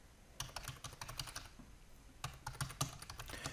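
Close, quiet keystrokes on a computer keyboard in two short bursts of rapid typing separated by a brief pause.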